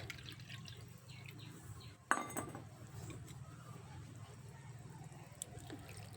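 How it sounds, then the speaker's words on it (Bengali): Water goes into a cooking pot for a vegetarian sour mango curry. It is a quiet splash and pour that starts suddenly and trails off into soft liquid sloshing over low kitchen background noise. "এবার আরেকটু আমি জল দিয়ে দিচ্ছি"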